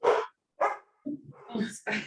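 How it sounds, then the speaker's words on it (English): Dogs barking indoors, with several close, sharp barks and yelps arriving in uneven bursts separated by short silences. "I have too many dogs."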